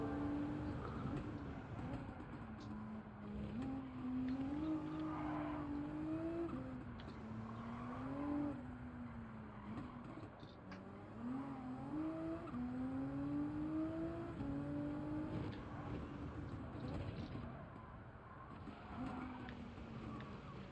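Race car engine in Gran Turismo 7 revving through a drift, its pitch sweeping up and down in repeated waves across the run, with a steady loud engine drone throughout and no voices.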